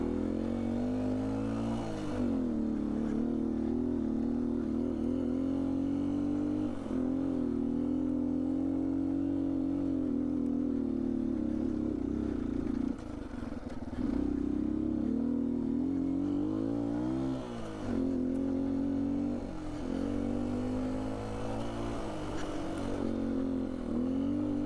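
A 2019 Beta 125 RR-S dirt bike fitted with a 150cc Yamaha big bore kit drones steadily and loudly, with its engine pitch rising and falling through repeated throttle changes and a short dip around the middle.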